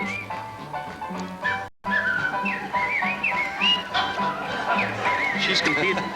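Someone whistles a melodic tune at the 1983 International Whistle-off in Carson City, Nevada, her clear wavering notes carrying over crowd noise and speech, with a brief break partway through.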